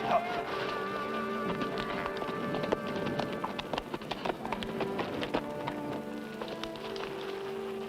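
A horse's hooves clip-clop in an irregular series of sharp knocks in an outdoor Western scene, moderately close, with insect-like buzzing and a faint background hum.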